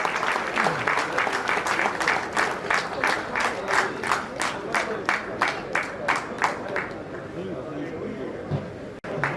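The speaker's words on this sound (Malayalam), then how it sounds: "നല്ലൊരു കയ്യടി എല്ലാവരും കൊടുക്കണം." An audience at a Rotary district TRF seminar applauds in a steady rhythmic clap for several seconds, a dense crowd sound that fades near the end, with a voice speaking over it.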